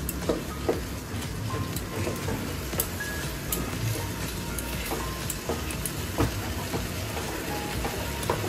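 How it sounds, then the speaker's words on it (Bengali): Spice masala fries with chicken pieces in a pan, a steady loud sizzle broken by repeated scraping and stirring strokes throughout, with no voices. "এখন ভালো করে মশলাটা কষিয়ে নেব চিকেনের সাথে।"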